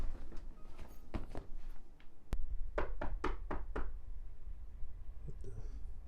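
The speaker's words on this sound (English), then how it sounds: "Did you just hear that knocking?" Sharp knocks, one sharp bang, then a quick rapid series of four or five raps in a burst, fairly close, over quiet room hiss with a few faint scrapes afterward.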